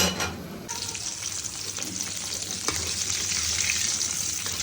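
Chicken frying in mustard oil gives a loud, dense, continuous sizzle and hiss close by, steady throughout, with a brief louder crackle near the start and no talk.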